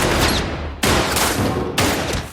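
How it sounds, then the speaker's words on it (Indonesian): Dense bursts of gunfire in a film scene, loud and close, arriving in three rapid waves with a crackling, echoing tail. "Meskipun tembakan tersebut tak ada yang mengenai si Gondrong"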